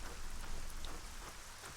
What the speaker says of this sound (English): Rainy, miserable day.